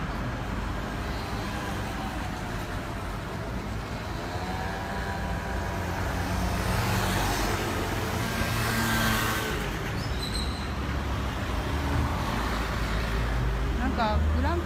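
Cars and taxis rushing along a busy Monte Carlo street in Monaco, a continuous loud traffic roar with engines swelling and passing close by, while people chat over the noise.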